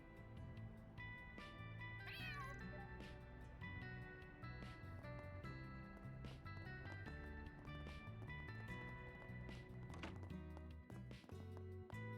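Cats meowing in the video game Trails Through Daybreak, a rising mew heard over continuous game music and clip-clopping effects.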